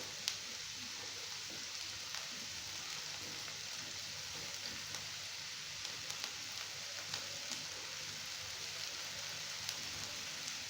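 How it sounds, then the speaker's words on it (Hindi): Onions and capsicum frying together in a pan, a soft steady sizzle with scattered small pops and crackles, continuous and moderately quiet with no voices. "साथ ही हम प्याज डाल देंगे और इसको भी हल्का सा फ्राई कर लेंगे"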